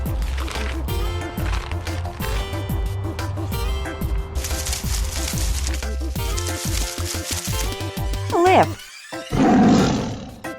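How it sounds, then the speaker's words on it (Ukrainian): A lion roaring, deep repeated rumbling roars layered under music and a narrating voice, loud and close across the clip, with a splashing burst near the end. "Лева називають царем звірів, адже це один із найсильніших хижаків на нашій планеті"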